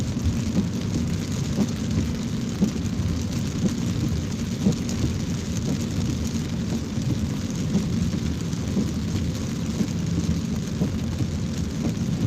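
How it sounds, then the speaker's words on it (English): Heavy rain pours steadily and loudly throughout a car journey, a dense continuous wash of drops drumming on the vehicle with no talk. "It's raining really bad."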